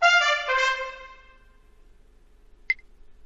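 Trumpet sound from the Dora the Explorer: Dora's Big Birthday Adventure video game, a short bright brass phrase with a couple of notes that fades out, followed by a brief faint blip.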